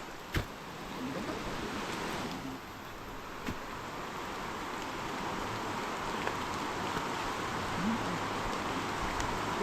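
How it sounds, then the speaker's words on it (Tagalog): Steady rain hisses on a surface, a dense even patter close by, with a few louder drops or knocks and no voices. "Umuulan."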